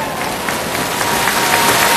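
Audience applause in a Turkish event hall, steady dense clapping throughout, loud and close, with a rising crowd murmur.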